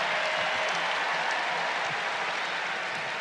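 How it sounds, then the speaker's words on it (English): Steady, dense applause from the crowd at an ACC men's college basketball game between Notre Dame and Virginia as a player heads to the bench, sustained and fairly even throughout with no clear voices above it. "Groves gets a nice round of applause as he takes a seat"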